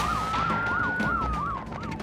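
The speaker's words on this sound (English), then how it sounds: "Nicola and Risky are travelling lights and sirens to hospital" A wailing ambulance siren sweeps up and down steadily, loud and close, over a low vehicle rumble.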